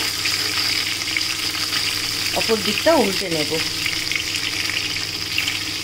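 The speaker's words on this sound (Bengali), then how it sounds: "যে কটা মাছ আছে আমি সব ভেজে নিই" Pieces of katla fish fry in hot oil with a continuous close sizzle, while someone speaks briefly partway through.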